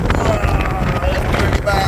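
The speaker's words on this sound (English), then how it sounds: "that's how bad the wind is" Strong wind buffets the microphone at Penmon Point on the sea shore, a loud, steady low roar with gusty rumble throughout and no clear speech.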